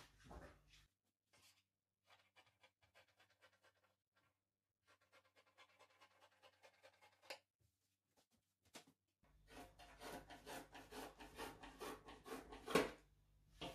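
Scissors cutting fabric straight down for a blouse: scattered close snipping and slicing sounds in short bursts with pauses, then a denser, louder stretch of cutting near the end; no talking.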